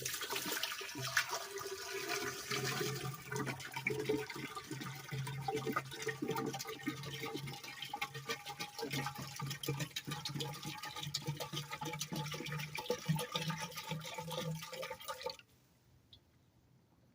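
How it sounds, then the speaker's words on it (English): Muriatic acid pours in a steady, gurgling stream into a container for about fifteen seconds, then cuts off abruptly, leaving near silence. "we are going to pour our muriatic into this container here"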